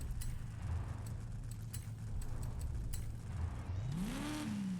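A stock engine, sounding like an LS V8 in a car in the Forza racing game, drones steadily and then rises in a single rev near the end, with no talk.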